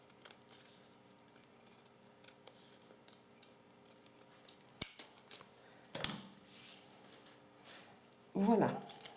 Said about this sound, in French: vous pourrez recouper ici l'excédent à 2 mm